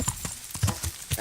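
Horse hooves clip-clop in the Kingdom Come Deliverance game, a quick series of close, evenly spaced hoofbeats at a trotting rhythm, heard on their own.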